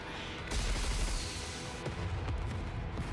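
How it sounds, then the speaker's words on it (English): A missile volley slams into a target in the video game NIKKE, a dense rumbling barrage of booms and rolling blasts that swells and persists for a few seconds. "Vesti fires a volley of missiles which slams directly into Behemoth"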